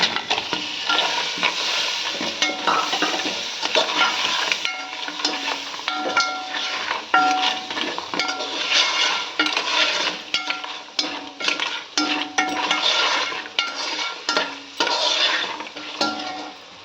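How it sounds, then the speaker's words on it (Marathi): Crab pieces sizzle in masala in a pan while a spoon stirs them, giving rhythmic, close scraping strokes over a steady frying hiss. "मसाला परतून घेतला आहे. त्याच्यात आपल्या खेकडे,"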